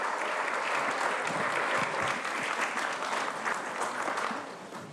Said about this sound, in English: Let's give our volunteer coordinators another round of applause.